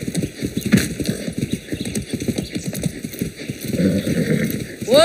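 Horse hooves clip-clop steadily in the video game Far Cry 6, close and fairly loud, with a brief whinny and game ambience underneath.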